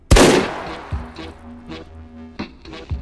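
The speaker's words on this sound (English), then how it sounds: "If you hold the trigger long enough, it'll actually shoot a power shot." A single loud rifle shot from the video game H3VR, a sharp close blast at the start that decays over half a second, followed by a few fainter mechanical taps and clicks.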